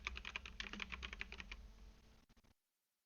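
Quick, close keystrokes tap on a computer keyboard in a short burst, then a few final clicks before the sound cuts to silence.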